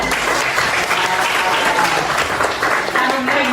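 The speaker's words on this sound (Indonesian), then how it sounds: "Oke, bisa ya, tepuk tangan." A classroom of students claps together in a loud, sustained burst of applause, with voices mixed in among the clapping.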